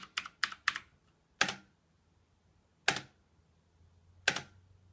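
Clicky blue switches on a HAVIT backlit wired mechanical gaming keyboard sound as a quick cluster of four close keystrokes, then three sharp single presses spaced well apart in a quiet room.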